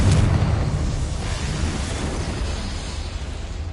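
A Confringo blasting spell explodes in a Harry Potter video game, with a loud sudden boom at the start that settles into a steady, heavy rumble lasting several seconds.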